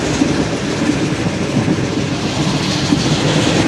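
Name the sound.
Zakriya Express train running on rails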